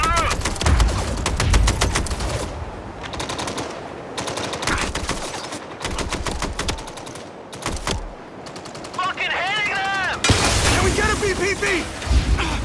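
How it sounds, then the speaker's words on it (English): Heavy automatic gunfire in the video game Mindseye, with dense rapid bursts and single shots crackling loudly through most of the span amid explosions and shouted voices over a battle din. "Heavy fire incoming!"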